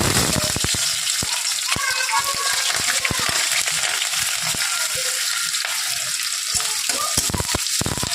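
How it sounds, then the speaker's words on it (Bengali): Onions with whole cumin and whole garam masala fry in oil, a constant loud sizzle punctuated by repeated sharp spatula scrapes and taps against the pan throughout. "তো পেঁয়াজটাকে লাল লাল করে ভেজে নেব।"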